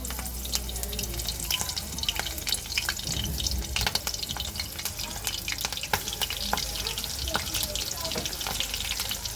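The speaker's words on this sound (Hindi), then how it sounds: "तो हम अपनी मिर्चों को तल लेंगे। आप इसको अच्छी तरह से तल लें।" Green chilies frying in hot oil for vada pav sizzle and crackle continuously, with scattered sharp pops and spatters at close range and no talking.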